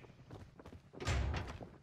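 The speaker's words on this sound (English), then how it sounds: "I just heard a door open." A door in the video game Call of Duty: Warzone, a single muffled thud about halfway through after faint shuffling, quiet and somewhat distant, no talking.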